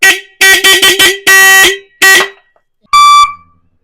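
A tractor's add-on sound-system horn blares loud and close in a musical pattern: a run of short staccato blasts, a longer held note, another blast, then after a pause a final higher-pitched tone.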